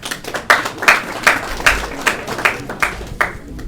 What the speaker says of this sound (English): We could clap for the Facebook Live folks.